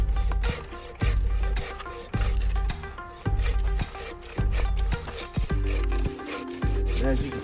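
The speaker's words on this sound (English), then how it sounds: "we're using hardly any pressure on the saw to cut through this log." A Japanese pull saw cuts through a wood log outdoors in winter, with about eight loud, rhythmic rasping strokes, each a close scraping burst followed by a short pause.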